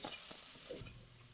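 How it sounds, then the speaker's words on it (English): Potatoes for corned beef hash fry on a burner in a pan, a short, faint sizzle with a scrape or stir partway through. "Back on the burner, the potatoes are getting started. Get a little color on them,"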